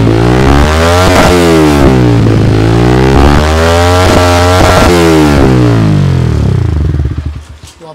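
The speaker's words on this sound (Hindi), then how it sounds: "अब सुनाता हूँ आपको थ्रोटल पे कि कैसे साउंड आती है" A Yamaha R15M motorcycle engine revs hard through an aggressive R-9 full-system aftermarket exhaust, pitch sweeping up and down in repeated throttle blips, loud and close, then cutting off near the end.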